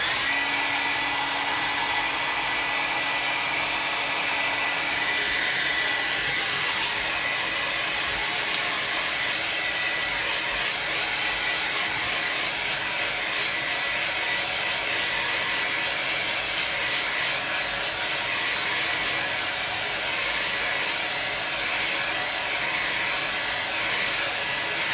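A hair dryer drying a gouache painting, blowing as a loud, steady, close whir that continues alone for the full stretch.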